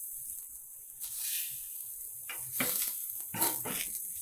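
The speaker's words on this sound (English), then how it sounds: "I'm going to use a spatula this time and just want to sear it so that you start to see that brown edge" A cauliflower steak searing in an extremely hot pan, a steady high hiss of sizzling with a few louder bursts of spitting and scraping as it is moved, close and without speech.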